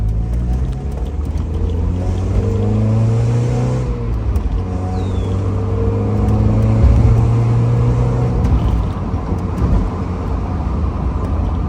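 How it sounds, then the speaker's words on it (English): A stock Mazda Miata (Eunos Roadster) engine hums steadily while driving on a bumpy road, with road and wind noise and occasional bumps and rises in engine pitch. "Drives like a stock Miata should."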